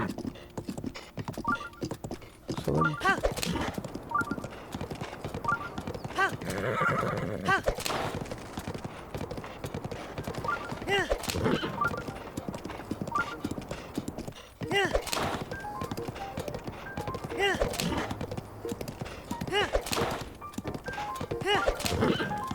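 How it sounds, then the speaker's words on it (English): A horse gallops through The Legend of Zelda: Breath of the Wild in Master Mode with rhythmic clip-clop hoofbeats, occasional neighs and game sounds, while a player talks over it throughout. "we're gonna grab the horse and run up again"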